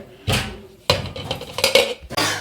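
Metal spoon stirring garlic into food in a cooking pot, several sharp clanks and scrapes against the pot in an irregular rhythm, close and fairly loud, with no voices.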